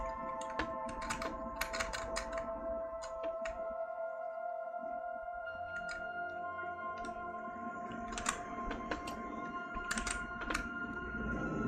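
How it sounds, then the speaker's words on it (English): Computer keyboard keys clatter in quick irregular bursts of clicks while animating in Blender, close and quiet over a steady electronic hum, with a short lull midway. "is this keyboard working?"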